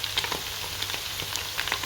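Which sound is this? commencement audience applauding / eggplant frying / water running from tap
eggplant frying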